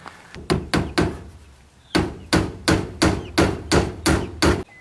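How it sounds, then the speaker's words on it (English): A hammer strikes repeatedly while wire mesh screening is fastened around a chicken coop: about eleven sharp, close, ringing blows in a fairly even rhythm, with a short pause after the first three. "And then I'll hammer this side in."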